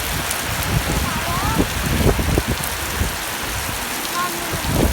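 Steady rain pattering on a surface, a dense crackling patter throughout with faint voices murmuring in the background.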